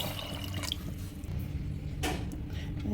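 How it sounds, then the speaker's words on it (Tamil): Water is poured into a pressure cooker holding soaked chickpeas, a steady close splashing and gurgling fill with a brief louder slosh partway through. "ஸோ இதில் 3 கப்பு தண்ணி விடலாம்."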